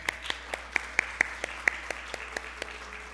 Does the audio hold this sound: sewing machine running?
no